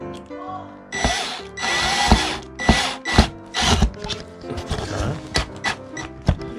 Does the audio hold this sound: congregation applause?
no